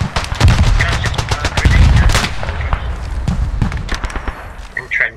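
Machine gun fire from an MG nest in the video game Beyond the Wire, loud rapid bursts of shots with echoing cracks, close and overlapping other gunfire, with voices heard briefly.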